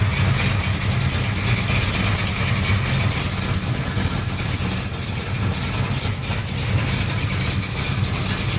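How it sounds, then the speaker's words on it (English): A 1971 Plymouth Barracuda custom with a four-speed sits idling, its engine giving a steady low rumbling drone with faint irregular pulses throughout, close and continuous with no voices. "Quick rumbling of the engine."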